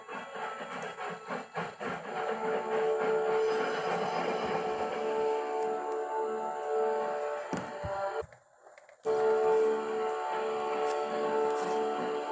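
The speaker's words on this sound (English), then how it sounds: "As they watched the train depart" A train rumbles and clanks as it pulls away from a quarry, with wheel and carriage noise building and holding, a brief drop near the end, then resuming.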